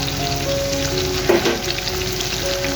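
Ground spices frying and being stirred in a pan, a steady close sizzle with a brief scraping stir in the middle and faint tonal hums beneath.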